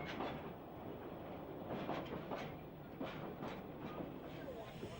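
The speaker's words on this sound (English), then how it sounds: "the train arrives at the temporary terminus" A narrow gauge train rolls into a temporary terminus on a Welsh heritage line, a soft, distant clatter of wheels with faint rhythmic clicks under low rumbling, fairly quiet throughout.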